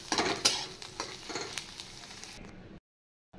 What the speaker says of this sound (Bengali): এবার আরেকটু ভালো করে ফ্রাই করে নেব।